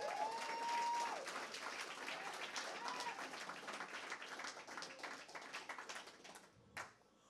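A church congregation applauds loudly and steadily, a dense wash of clapping that tapers off near the end with a final sharp sound.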